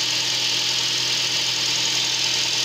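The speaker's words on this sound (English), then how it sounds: "you can listen to the vehicle. It doesn't sound like it's misfiring anymore." A car engine idles steadily after a misfire repair on a cylinder 4 fault, giving a loud, even, continuous hum with no audible stumbles, recorded close up with no talking.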